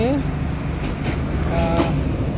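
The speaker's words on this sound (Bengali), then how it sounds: "এটাতে আমি উঠে গেছি ট্রেনে, এখন যাচ্ছি বিমানবন্দর রেল স্টেশন থেকে" Continuous low rumble heard aboard a moving train from Airport railway station toward Kamalapur, with a broad steady roar and faint tonal whines drifting through.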